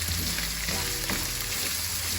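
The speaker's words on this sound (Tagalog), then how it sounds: "So, napiprito na yung ating meat." Ground beef sizzles steadily in a hot pan with oil, a loud close frying hiss with occasional scrapes and stirs, and no talking over it.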